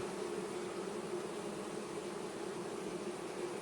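Steady, dense buzzing of many honey bees at a hive, continuous and even throughout, with a constant hum filling the space.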